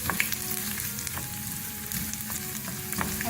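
Ginger frying in oil for mash (urad) dal, a steady close crackling sizzle with scattered spoon stirs and scrapes throughout, no voices.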